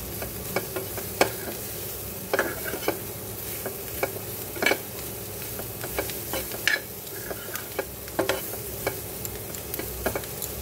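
Green chilies with salt and spices being stirred in a pan for pickle, a steady scrape and sizzle with repeated sharp utensil clicks and taps against the pan, close and continuous, no talking.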